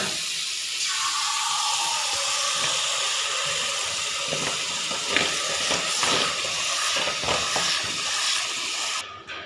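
Water in a pot boiling steadily with a continuous broad hiss and rolling bubbling, ready to blanch freshly gathered apple snails with plenty of salt, with faint knocks and clatter toward the end.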